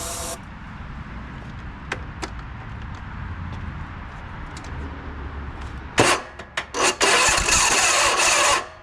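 Ariens lawn tractor engine with a worn starter cranking and catching, a few short starter bursts leading into a loud, rough run near the end.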